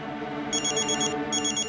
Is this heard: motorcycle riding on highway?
no